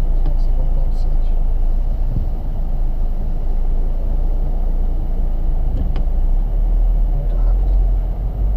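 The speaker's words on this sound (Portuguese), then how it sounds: "O carro é tão rápido que a Thalys já toma multa" VW Jetta 2.0 TSI turbo with DSG gearbox accelerating, heard from inside the cabin as a steady loud low engine rumble and road roar throughout.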